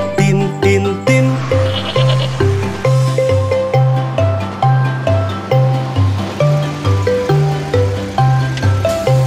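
Goat-like bleats ring out over a bouncy, steady children's tune with a thumping bass beat and bright melody.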